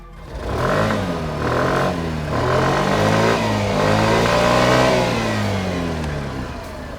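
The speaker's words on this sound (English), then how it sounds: "Now let's check out how it sounds." A Suzuki Burgman Street 125 BS6 scooter's single-cylinder engine, heard through its side-mounted single-barrel exhaust, revs up and eases off repeatedly in smooth rising and falling sweeps, close and fairly loud.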